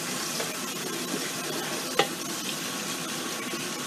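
White gesso paint stirred in a disposable cup, a quiet, continuous soft swishing and scraping with one sharp tap partway through, and no talking.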